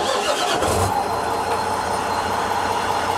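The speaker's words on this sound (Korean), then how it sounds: "시동 한번 켜봐 드릴게요" A 2013 Tata Daewoo Novus 390-horsepower wet dredging truck's diesel engine starts with a short crank burst, then settles into a steady, rumbling idle, heard close and alone.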